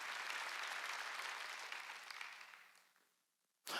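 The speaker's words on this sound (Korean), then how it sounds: "박수 예물로 드려" A church congregation at a Sunday worship service breaks into loud, dense applause that gradually fades away, followed by a sudden sharp sound at the very end.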